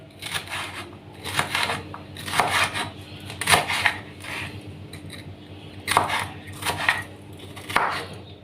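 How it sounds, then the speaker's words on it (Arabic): A knife slices a red bell pepper lengthwise into strips on a board, making repeated separate cuts in uneven bursts, close and fairly crisp, for a baked mackerel and vegetable tray. "والفلفل الاحمر برده هنقطعه برده شرايح بالطول كده"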